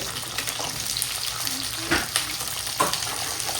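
Onion and garlic fry in oil in a pan, giving a steady close sizzle with a few soft stirring knocks over about four seconds.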